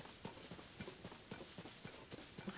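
Horse hooves clip-clopping in The Legend of Zelda: Tears of the Kingdom video game, a quiet, fairly steady walking rhythm of soft hoof thuds on the ground with faint ambient game sound.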